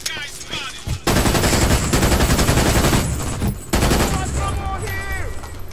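Loud machine gun fire in the video game Brink, long rapid bursts of close automatic shots broken by brief pauses, with a voice speaking faintly at the start and end.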